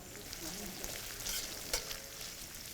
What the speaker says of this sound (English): we are going to just saute these in the oil till they are brown in color